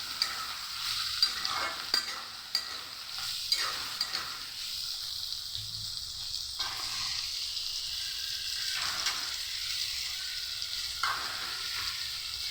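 Spice paste of red chilli and Kashmiri chilli powder sizzles in hot oil for a rohu fish curry, a steady close frying hiss broken by scraping stir strokes throughout.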